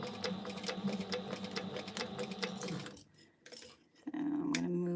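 A sewing machine stitches a seam on a crossbody bag, running in a fast, close, steady whir with small clicks, then pausing briefly before starting up again.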